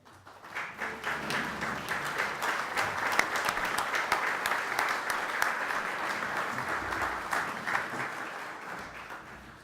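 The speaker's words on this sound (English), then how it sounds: "give them a round of applause" Applause for township employees and department heads at a morning community gathering, crisp individual claps building quickly into a sustained round from a modest room audience, then tapering slightly near the end.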